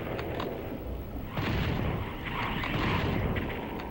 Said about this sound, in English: He's shooting, like, fireballs.